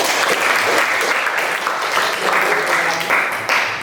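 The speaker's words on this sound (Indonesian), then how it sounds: "Oke, berikan aplaus buat teman-teman." Classmates in a primary classroom clapping together for a presenting group, a dense, loud burst of applause lasting a few seconds with lively voices mixed in.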